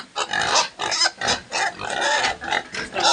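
A pig grunts repeatedly in rough, throaty bursts, close and loud, with short gaps between the snorts.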